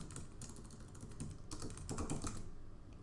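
Keystrokes on a Mac computer keyboard, a quick cluster of close, soft clicking taps with a denser flurry in the second half, with no talking.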